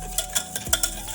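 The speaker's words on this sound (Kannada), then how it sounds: "ಇದನ್ನು ಚೆನ್ನಾಗಿ ಮಿಕ್ಸ್ ಮಾಡಬೇಕು." A spoon stirs ragi cake batter mixed with curd in a bowl, giving a few quick, close scraping and tapping strokes with no talking.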